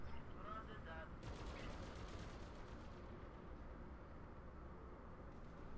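A mech firing weapons, including lasers, in a BattleTech video game: a rattling burst of rapid fire lasting a couple of seconds, then a lower rumbling battle din, with faint speech.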